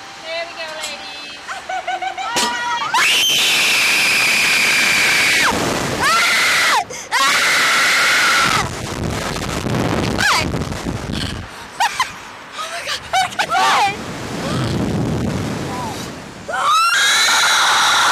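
Riders scream loudly on the SlingShot amusement ride in Old Town, Kissimmee, with long, high, piercing shrieks in repeated bursts, mixed with laughter and excited chatter, near and intense.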